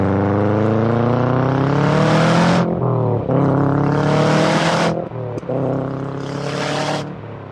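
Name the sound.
Subaru Impreza STI S202 accelerating through the gears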